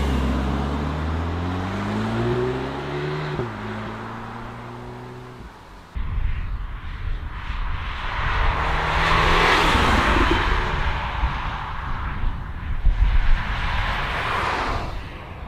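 Cupra Formentor 310 hp AWD crossover driving on winding country roads, its engine rising and falling through gear changes, followed by steady road and wind roar inside the cabin, with no talk.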